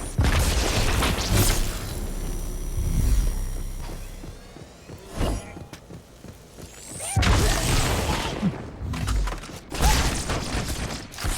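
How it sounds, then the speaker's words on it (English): A plasma grenade goes off in Halo 2, a loud booming blast amid ongoing game action with further heavy thuds and bursts, no talking. "Ooh, plasma grenade."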